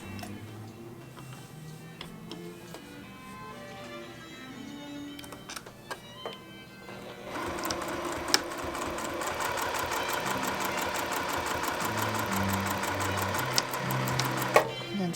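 A sewing machine stitches through fabric and batting for a bowl cozy. There are scattered ticks and clicks at first, then a steady, fast mechanical whir that runs to the end, close up.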